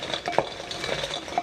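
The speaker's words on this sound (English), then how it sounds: "Give it a bit of a stir." Cauliflower pieces coated in sauce stirred in a bowl, giving soft wet clinks and scrapes of a utensil against the bowl, with a few brighter taps standing out, close and fairly quiet with no voices.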